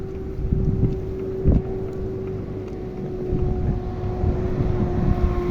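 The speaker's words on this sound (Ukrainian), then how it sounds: "Ну, трактор." A steady tractor engine drone rumbles on and on with a constant low hum, close by, mixed with wind buffeting the microphone.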